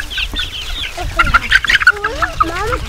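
Free-ranging chickens on a homestead cluck and squawk nearby, a steady run of overlapping hen calls with rising and falling notes, loudest in the middle, with no talking.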